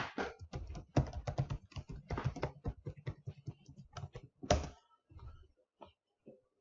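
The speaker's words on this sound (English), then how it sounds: "This should prompt me to type the user ID and password." Fast typing on a computer keyboard to enter a user ID and password, steady close clatter of keystrokes that thins out into a few last taps.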